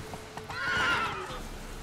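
A horse in The Witcher 3 video game lets out a short, moderately loud whinny that rises and falls over about a second, with faint hoof clops before it.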